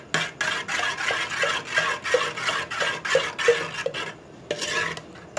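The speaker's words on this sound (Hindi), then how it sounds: "दही ले लिया, इसके अंदर अब हम जो पेस्ट बना के रखा था चटनी का, वो इसके अंदर ऐड करेंगे।" Yogurt and chutney paste stirred together for dahi bhalla: a close, rhythmic scraping of a spoon around a bowl, about a dozen even strokes with a soft wet rasp, then a brief pause before stirring resumes.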